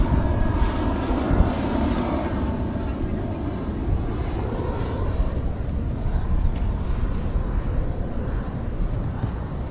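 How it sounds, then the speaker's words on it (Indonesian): An airplane engine roars steadily overhead, a broad loud rumble filling the whole stretch with no break. "Oh, ada pesawat."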